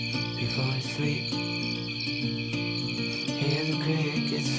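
Crickets chirp in a dense, continuous chorus by the Twin Lakes on the Kashmir Great Lakes trek, a steady shrill trill sitting under music that plays throughout.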